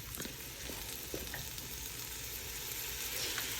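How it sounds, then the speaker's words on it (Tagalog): Shrimp cooking in coconut milk in a pan, giving a steady close sizzle and bubbling fry with small crackles throughout and no talking. "Lutuin lang natin ang shrimp."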